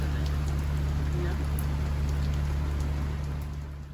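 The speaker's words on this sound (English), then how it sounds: "Will it ever stop raining?" Rain falling steadily on a sailboat travelling the northbound ICW, a constant dense patter over a low steady hum, fading slightly at the end.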